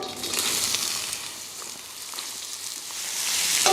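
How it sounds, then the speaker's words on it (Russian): Onions sizzle and crackle in hot oil in a cauldron (kazan), browning toward golden, a soft steady hiss with small pops, fairly quiet and without talk. "Лук немного прижариваем до золотистого цвета."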